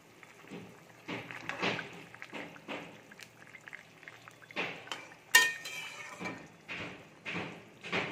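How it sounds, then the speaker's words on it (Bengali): Pieces of fried fish are placed into a pot of simmering curry, heard as faint, scattered clinks and soft plops of utensils against the pot, with quiet pauses between. "এবারে ভেজে রাখা মাছগুলো দিয়ে দেব।"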